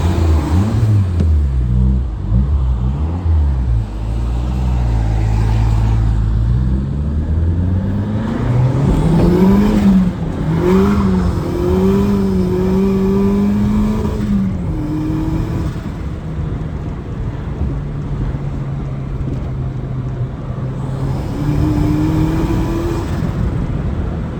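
A turbocharged Nissan Micra K11 with a 1.4 conversion drives off, its engine revving up and down through gears in rising, falling whines, heard steadily from nearby for the whole stretch.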